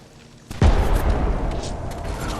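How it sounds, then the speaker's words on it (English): Distant trap explosions going off in the video game Remnant: From the Ashes, a sudden deep boom followed by a low rumbling roll that lingers, moderately loud with no speech. "The explosions we're hearing in the distance are traps that are going off."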